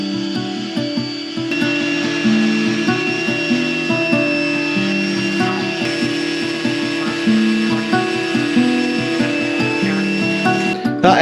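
Wood on a boat is sanded by hand with hand tools, giving a continuous rhythmic rasping scrape of close, fairly loud strokes repeating for about eleven seconds, with faint background hum and no talk.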